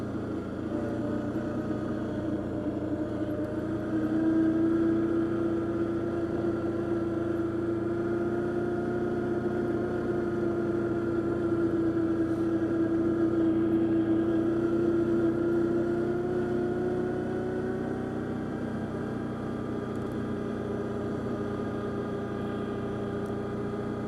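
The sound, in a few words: Arctic Cat Diesel 700 engine revving through a tunnel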